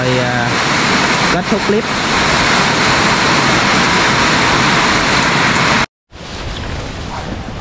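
Heavy rain pouring down steadily outdoors, a dense loud wash of noise with someone speaking briefly over it, then a sudden short cut before the downpour resumes.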